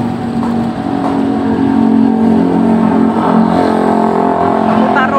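A fuel-injected motorcycle engine idles at fairly high revs while turning the rear wheel, a loud, close, steady drone with a faint whirring on top and a voice talking over it.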